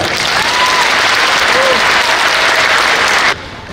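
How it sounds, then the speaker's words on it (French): A large audience applauds a chess legend as she is welcomed to the stage, dense steady clapping filling the room at full volume for a few seconds before dropping off abruptly. "Donc je vous demande d'accueillir, d'applaudir déjà très fortement Suzanne Polgar."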